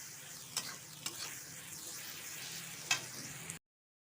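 Fried cauliflower stirred into a spice masala for village-style ghugni with peas, giving a steady soft sizzle under a few sharp spatula scrapes and taps, close and fairly quiet, then an abrupt cut to silence near the end.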